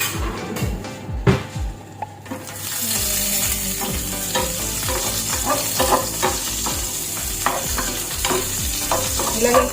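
Onion sautéing in a hot pan for a tuna flakes dish, a loud continuous sizzle with repeated rhythmic scrapes and taps of a spatula against the pan close by.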